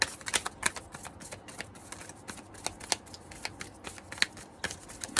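Tarot cards being shuffled by hand in a steady run of crisp riffling bursts and soft slaps, close and fairly quiet, with no voices.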